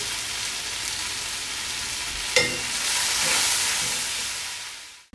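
Broccoli rabe and Swiss chard cooking down in a pan give a steady, close sizzle and hiss, broken once by a brief stirring clatter partway through, with no talking.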